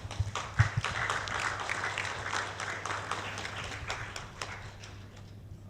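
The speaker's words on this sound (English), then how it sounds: "let's give applause to all of you all before we start the speakers" Audience applause at a joint T20, B20 and U20 session ahead of the G20 summit, a moderate wash of clapping with a low steady hum beneath, gradually thinning toward the end.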